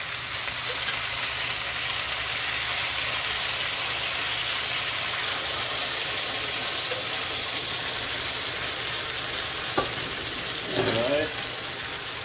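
Stir-fried vegetables sizzle hard in a hot pan as sweet and sour sauce is poured over them, giving a loud, steady hiss throughout. A brief scrape of stirring and a few spoken words come near the end.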